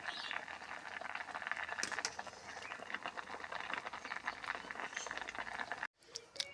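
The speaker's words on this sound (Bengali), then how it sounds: "সিদ্ধ হয়ে গেছে আর একটু সিদ্ধ করব তারপর নামিয়ে নেব" Spinach boiling in a pot, a dense, steady bubbling and popping close by that holds evenly, then cuts off abruptly near the end; no talking.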